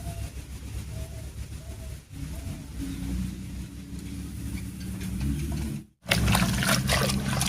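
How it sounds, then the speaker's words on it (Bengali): Kanai leafy greens being washed in water, heard as steady trickling and sloshing close by, with a brief cut near the end followed by louder splashing, and no talk. "শাকটা তুলে নিয়ে এলাম, এবারে পরিষ্কার করে ধুয়ে নিচ্ছি"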